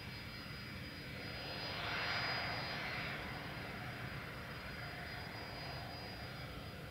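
Virgin Australia Regional aircraft, registration VH-FZO, taking off from runway 03 at Perth Airport: a steady broadband engine roar that swells to a peak around the middle and then eases off as it moves away, heard alone.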